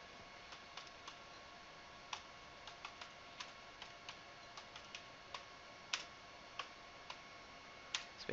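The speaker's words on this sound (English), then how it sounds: "Type the command." Light, sparse keystrokes on a computer keyboard as a command is typed into a Debian Linux terminal, faint individual clicks spaced irregularly over a quiet background.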